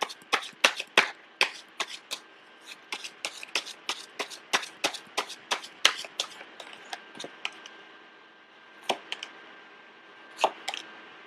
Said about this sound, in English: I was sensing that when I was shuffling the cards